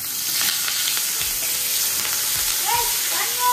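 Curry leaves drop into hot oil and sizzle loudly, a dense, steady frying hiss with a few crackling pops, close and continuous with no talk.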